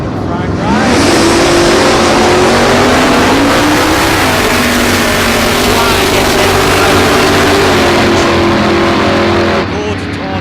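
A gas-running Chevrolet super sedan with a 253 cubic inch engine drag racing at a street challenge, its engine roaring loud and close as it launches and holds a rising, sustained wail for about nine seconds before cutting off.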